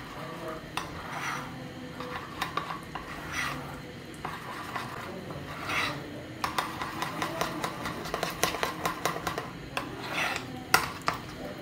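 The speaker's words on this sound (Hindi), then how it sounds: "Mix and mix." Cake batter with an egg mixed by hand in a bowl, a utensil scraping and clinking against the sides in an uneven, quickening rhythm of close taps and stirring strokes.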